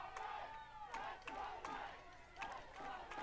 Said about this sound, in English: Knights crowd doing a great job at trying to rally this offense for one final play.